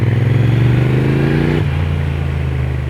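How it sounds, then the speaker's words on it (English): A Triumph Speed Twin motorcycle exhaust revs in second gear, a loud close throaty pulsing roar that climbs in pitch and then drops back to a lower, steadier rumble. "just to hear that exhaust, oh my god, that exhaust"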